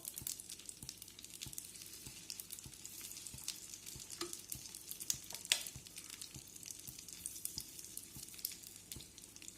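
Chicken liver pancake batter frying in a hot pan on a gas stove, giving a steady, close sizzle with soft crackles and faint rhythmic ticks throughout, no voices.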